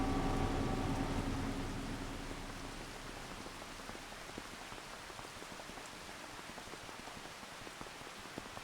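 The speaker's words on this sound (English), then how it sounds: "now that it's raining" Steady rain falling in Farming Simulator 25 on the Judith Plains, Montana map, a soft, constant hiss with scattered drop patter, louder for the first second and then easing to an even background wash.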